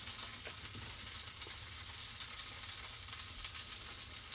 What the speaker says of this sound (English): The last of the steaks are frying on the griddle.